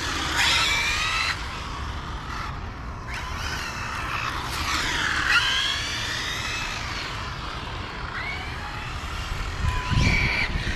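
An Arrma Infraction RC car drives around nearby, its electric motor whining and rising and falling in pitch with throttle changes, over constant wind-like roar of the car and surroundings.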